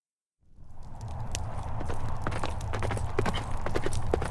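Many hooves clip-clop on hard ground at once, a dense, steady clatter of horses moving together against a low rumbling background, in a radio drama.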